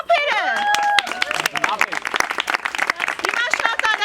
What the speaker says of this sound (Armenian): Ծափերը